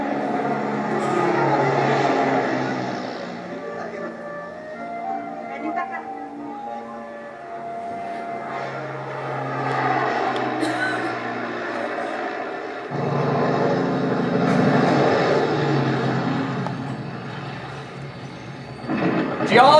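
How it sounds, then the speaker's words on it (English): A steady, droning engine hum fills the scene, rising and falling like a propeller plane passing overhead, loud and sustained throughout. "And suddenly, the first airplane."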